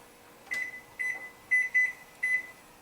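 Four short electronic beeps at a steady pace, then one more, like keypad presses on a microwave being set, with no talking.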